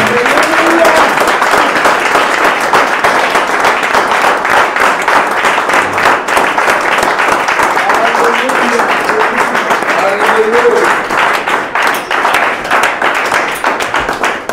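A church congregation claps and cheers for Jesus, loud rhythmic group clapping running throughout, with voices rising and calling out over the steady beat.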